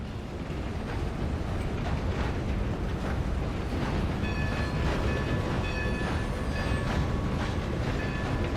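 A train rolls along rails in Red Dead Redemption 2, a continuous dense rumble and rattle with faint metallic squeals, steady and loud throughout with no talking.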